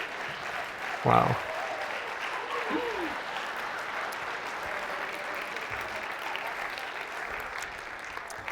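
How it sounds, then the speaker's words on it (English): A room full of people bursts into sustained applause and cheering, steady and dense for several seconds, with a voice exclaiming briefly near the start. "This is very surreal to have a room applaud your checking account"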